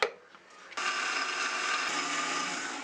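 A mixer grinder blending masala paste of spices such as coriander powder and garam masala with water for Kerala crab curry, a brief faint start then a loud, steady high whirring drone from about 0.8 s to the end.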